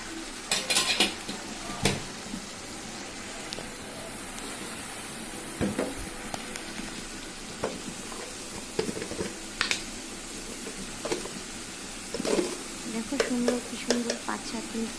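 Paneer curry masala with a little sour yogurt cooks in a pan, with scraping stirs, clinks of a utensil against metal and a soft sizzle in irregular bursts, close by.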